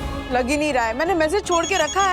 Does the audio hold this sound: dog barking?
no